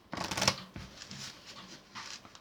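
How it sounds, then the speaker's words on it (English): Playing cards riffle shuffled together during a card trick: a dense burst of fluttering snaps up close, followed by softer shuffling rustles and a brief final flurry, no talking. "Shuffle all this together."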